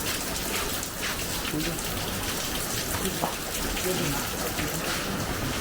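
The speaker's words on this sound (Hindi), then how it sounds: "ये कहाँ से लीकेज हो रही है" Water leaking and dripping indoors at a homestay in the Pamir mountains of Tajikistan, a steady patter like rain on a surface, continuous and moderately loud with some voices faintly under it.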